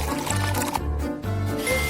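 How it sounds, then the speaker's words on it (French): Water being poured onto a plate holding a giant chocolate and gummy worm, a steady close liquid stream with a brief pause in the middle, no talking. "moi, je verse de l'eau"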